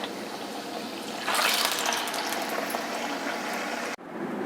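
Cucumber gharge fritters deep-fry in oil, a continuous bubbling hiss that swells louder partway through and then cuts off abruptly before resuming.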